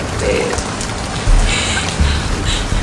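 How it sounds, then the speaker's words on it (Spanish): Heavy rain pouring steadily during a storm at home, a dense continuous hiss of drops close by, loud and unbroken throughout with no clear talking. "Ya está lloviendo más fuerte."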